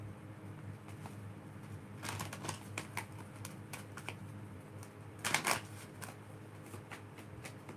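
Tarot cards are shuffled close by, with soft riffling flutters in short bursts and a louder, denser riffle near the end, all fairly quiet.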